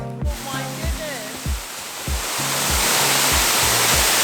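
Troll Falls, a waterfall in Kananaskis in the Canadian Rockies, roars as a steady broadband rush that grows louder and fuller partway through, with rhythmic thumping footsteps and brief voices heard early on.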